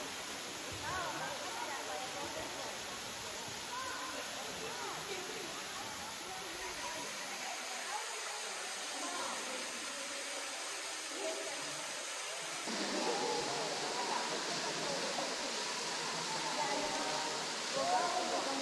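A small trickle of water falls into a big, deep pool at Foster Falls, giving a steady, broad rushing hiss that continues throughout and grows slightly louder toward the end, heard close with no voices.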